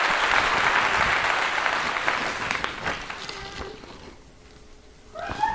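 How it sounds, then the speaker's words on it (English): Applause from a crowd fills the opening seconds, then thins out and fades, with a few scattered sounds trailing at the end. "let's give them a big welcome, shall we? Everybody applaud."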